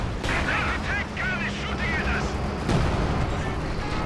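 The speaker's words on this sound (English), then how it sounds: "Nice barrage there." Artillery barrage in the video game Company of Heroes 2, a series of heavy, rumbling booms and blasts layered over dense battle noise, with a louder impact near the end. Game sound effects and chatter sit in the mix.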